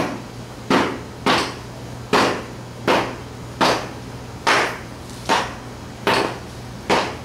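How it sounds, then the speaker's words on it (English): Nine evenly spaced dull knocks of a rubber hammer striking an air-cooled Volkswagen transaxle case, about one every second, each with a short thud and quick decay. "this rubber hammer"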